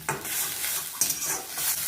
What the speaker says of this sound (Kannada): ಚೂರು ಪರಿಮಳ ಬರುವಷ್ಟು ರೋಸ್ಟ್ ಮಾಡ್ಕೊಂಬರ್ತೆ.